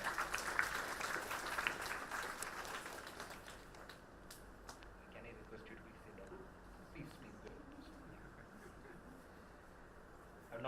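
Audience applause at a university MSW batch inaugural ceremony, loudest in the opening seconds and then thinning into scattered claps and room murmur, with faint voices in the background.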